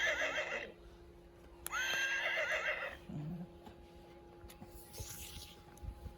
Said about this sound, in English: Let's touch the horse's mane to hear her.